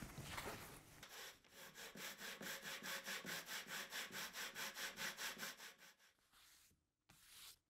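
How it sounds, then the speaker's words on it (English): Rhythmic back-and-forth rasping of a sanding block chamfering a foam core edge, about twenty quick even strokes, close up, then a pause and a final stroke. "Putting a chamfer on is really straightforward, just using a simple sanding block."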